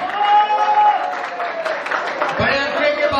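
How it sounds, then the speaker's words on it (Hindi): Applause rises from an audience at a Punjabi film trailer launch event, continuous clapping heard under a host's loud amplified voice announcing names. "बहुत सारी तालियां"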